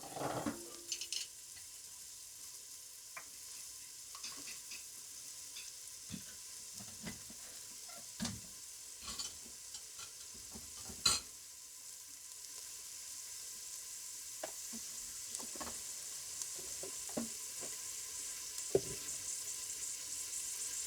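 Cooking oil sizzles faintly and steadily in a pan, a soft continuous hiss broken by occasional light clinks and taps.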